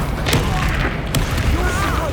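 An Incendio fire spell in Hogwarts Legacy erupts in a couple of muffled booming bursts over a rumbling game background, with a voice talking over the blasts.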